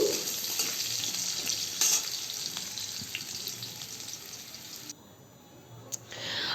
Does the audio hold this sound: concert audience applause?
no